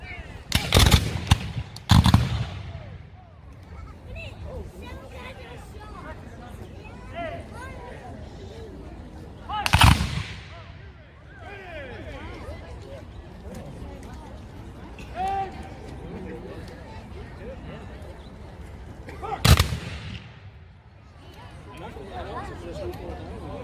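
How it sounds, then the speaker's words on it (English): Musket volleys at a Civil War reenactment, with several loud sharp bursts of massed gunfire spread through the clip, a tight cluster at the start and single volleys later, over crowd murmur and talk. "we have these volleys going off"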